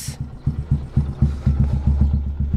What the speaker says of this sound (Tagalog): Kaya muna nating uminit yung makina niya saglit para makabiyahe na tayo.